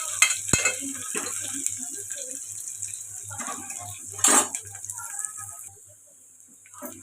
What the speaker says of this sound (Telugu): ఉల్లిపాయలు ఇలా వేగుతున్నాయి కదండి ఇప్పుడు ఇందులోకి కరివేపాకు ఒక నిమిషం పాటు బాగా ఫ్రై చేసుకోవాలి